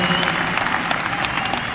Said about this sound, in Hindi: तो एक बार ताली बजा सकते हैं फिर से प्रियंका मैम ने और हमारी महिलाओं के सम्मान में